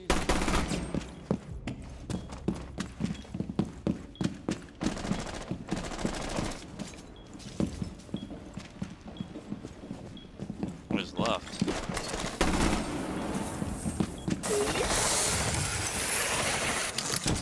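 Rapid gunfire bursts from the video game Rainbow Six Siege, loud and dense, crackling in repeated volleys with sharp impacts throughout, under occasional player speech.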